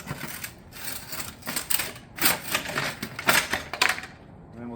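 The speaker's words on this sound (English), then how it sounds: "We're going to go ahead and take that over to our cutter." Hand-operated cutter shearing a metal Cottage shingle panel along a marked cut line during a direct-bend roofing install, giving a series of sharp, rhythmic clacking and snipping bursts close by, with no talk.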